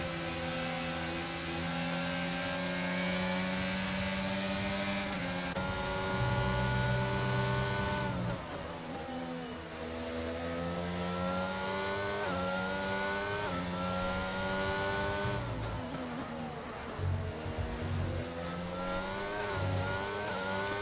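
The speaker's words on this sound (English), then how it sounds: "The French engine getting mixed in with the Italian engines." Racing car engines in a sim racing esports game scream through high revs, rising and dropping with gear changes as several cars pass close, loud and continuous, with no talking.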